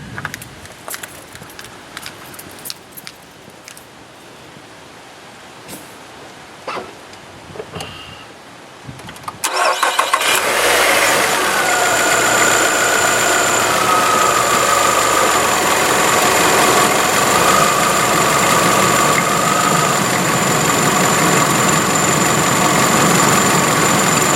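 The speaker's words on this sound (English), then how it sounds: "I'm going to go ahead and fire up the engine" A quiet stretch, then a 2011 Nissan Altima's engine abruptly starts and settles into a loud, steady idle that runs continuously to the end.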